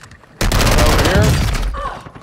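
A sudden burst of rapid gunfire in a multiplayer shooter erupts loudly and rattles for over a second before fading, with a player's voice talking over it.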